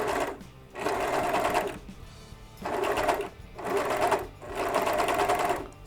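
A serger overlock sewing machine stitches a decorative ladder stitch in four close, steady bursts of rapid mechanical whirring, each separated by a short pause.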